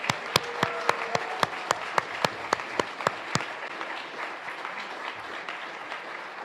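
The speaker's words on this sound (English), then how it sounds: "Would you give these people a round of applause?" A Unitarian fellowship congregation gives a round of applause, with a dense crowd of hands and sharp, regularly spaced claps from nearby for about three seconds before the sound eases into softer, diffuse clapping.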